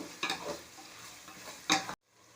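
Tomatoes sizzle softly in a pan with two quick scraping stirs of a spatula, quiet and close, ending abruptly.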